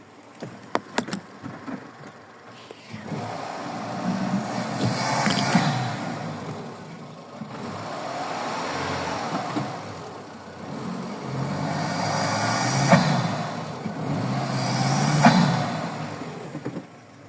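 A turbocharged car engine revs repeatedly through several rises and falls, each surge ending in a sharp hissing whoosh from the dump valve blowing off.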